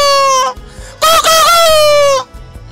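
A man imitates poultry: a loud strained rooster crow followed by a wavering, squawky hen-like call, close up with short murmurs between.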